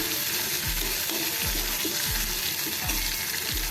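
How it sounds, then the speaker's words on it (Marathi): Ginger sautés in a pan with curry leaves for a dhaba-style spicy veg Maratha, a continuous loud sizzle with regular stirring scrapes roughly every three-quarters of a second. "आलं पण आपण थोडं परतून घेऊया"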